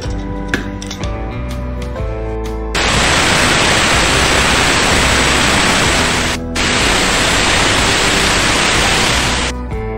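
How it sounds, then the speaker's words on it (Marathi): A pressure cooker on the stove, cooking tur beans, lets out a loud, steady, hissing steam whistle that runs for several seconds, breaks off briefly and then resumes, with no voices. "तर इथे आपल्या कुकरच्या 2 शिट्ट्या झालेल्या आहेत"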